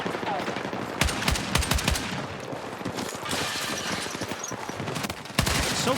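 Battlefield 6 gameplay features bursts of automatic gunfire and separate sharp shots, some close and some farther off, with rapid volleys in the middle and a fresh burst at the end.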